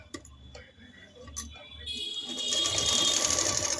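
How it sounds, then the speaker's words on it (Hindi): A sewing machine stitches a cloth belt, starting with scattered ticks and clicks, then building into a steady, louder mechanical whir, with a voice faintly present early on. "बेल्ट बनाते हुए हम तिरछा सिलाई यहाँ से शुरू करेंगे"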